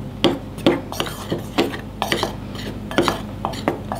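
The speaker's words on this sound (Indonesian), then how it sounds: "Kita aduk-aduk sampai merata." A spoon stirs a mixture of tapioca starch and wheat flour in a bowl, making close, steady scraping strokes against the dish at a brisk, even rhythm.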